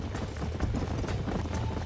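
Horses gallop in Red Dead Redemption, making a dense, continuous drumming of hooves that blends into a busy, rumbling game soundscape.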